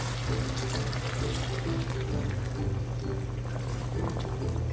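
Chicken stock (yakhni) pours steadily into a pot of rice for white chicken pulao, a continuous liquid rush with a low steady hum underneath, fairly close and without speech.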